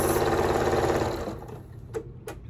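Sewing machine stitching red and white quilt strips together for a star-spangled wall hanging, a fast close whirring run of needle ticks that stops after about a second, followed by a couple of small clicks.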